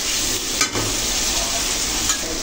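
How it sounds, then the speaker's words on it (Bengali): Potatoes with spices sizzle and fry in a pan for a small fish curry with data stems, a steady close crackle broken by a couple of brief stirring scrapes. "আলুগুলো এই যে মশলার সাথে কি সময় নিয়ে 2 থেকে 3 মিনিট সময় নিয়ে কষিয়ে নেব"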